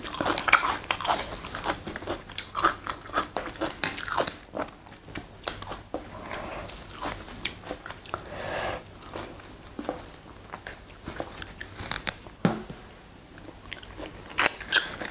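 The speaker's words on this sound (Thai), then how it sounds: "ผักกรอบๆ" Crunchy fresh raw vegetables served with rice noodles and fish are bitten and chewed close up, giving repeated crisp crunches and wet chewing sounds in irregular bursts throughout.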